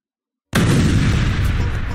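In the video game Among Us, a sudden loud spaceship explosion bursts in after a moment of silence, followed by a sustained rumbling roar.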